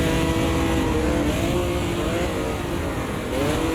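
Heavy Opala V8 race car sliding through corners on abrasive Portuguese tarmac in a sim racing game, its engine a loud, steady roar with shifting revs throughout, no talk.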